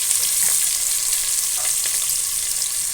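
Curry leaves fry in hot oil with a loud, even crackling hiss that holds steady throughout, near and uninterrupted, with faint stirring clicks and no speech.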